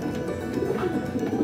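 An Arab pigeon squab calls with soft, low cooing and fluttering murmurs, close by and continuous over a brief moment.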